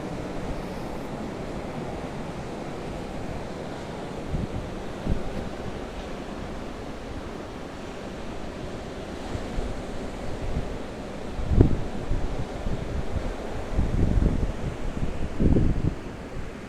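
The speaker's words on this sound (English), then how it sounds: "Definitely bigger waves down this end." Big waves crash along a seafront promenade in a steady roar of surf and wind, with heavier surges breaking near the end.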